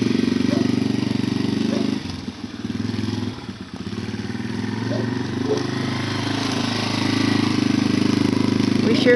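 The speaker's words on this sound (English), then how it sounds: "These dirt bikes." A dirt bike engine runs nearby with a rough, buzzing idle that dips briefly and then rises again, with some talk mixed in.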